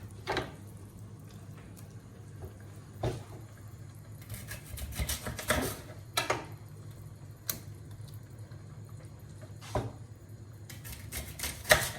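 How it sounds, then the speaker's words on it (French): A knife cuts fennel bulbs in half on a board while tomato juice and beef simmer for a tagine, giving several sharp chopping knocks spread across the stretch over a steady low kitchen hum, with no talking. "je vais mettre à cuire les fenouilles. Donc je vais les couper en deux."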